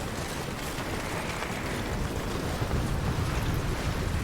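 Wind sweeps through a valley in the game Death Stranding, a steady, full rushing roar with gentle swells and no voices.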